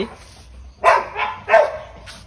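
Two loud, sharp dog barks close by, with excited yips and whimpering between them.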